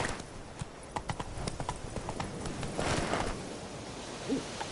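Roach the horse gallops in The Witcher 3, steady rhythmic hoofbeats clip-clopping close and clear, with occasional softer game sounds in the background.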